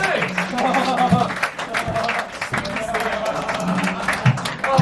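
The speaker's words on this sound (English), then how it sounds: "Get that round of applause going on that thing" Audience applause and cheering welcome a comedian onto the stage at an Edinburgh Fringe comedy show, a dense crowd sound running throughout with sharp claps and a few whoops.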